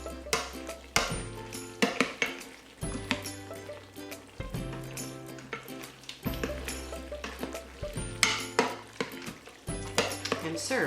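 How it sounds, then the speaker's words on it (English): Cooked pasta stirred in the inner pot of an Instant Pot, with a spoon scraping and clinking against the metal in repeated close strokes and soft wet squelching throughout. "So now you're just going to stir it up."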